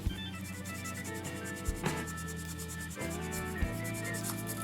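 Light, fast rubbing of sandpaper on a Revell 1/24 Ford GT Le Mans 2017 model body, a close, steady scratchy texture with a few brief stroke accents.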